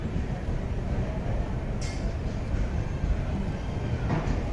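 A train carrying a hot buffet car passes at night at Krishnarajapuram, a steady rolling rumble of wagons on the rails with a brief higher rattle partway through.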